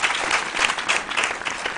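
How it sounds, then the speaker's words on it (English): Quiz show audience applause, a dense, continuous patter of many hands clapping at steady loudness with no voices over it. "feel free to clap, audience, if the spirit moves you to do so"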